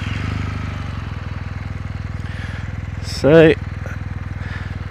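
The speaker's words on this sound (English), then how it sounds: "Here we are with my Kawasaki W800. Let's turn this baby on." A Kawasaki W800 motorcycle engine idles steadily close by, its even low throb continuing throughout, with a brief spoken word and a short burst of louder noise partway through.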